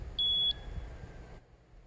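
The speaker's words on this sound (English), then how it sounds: "I'm going to move it up and down until this thing starts beeping, which means I've hit the location of the laser level." A laser level receiver held against a nail at a DIY container home foundation site gives one short, sharp, high beep, followed by a fainter lingering tone over low outdoor rumble.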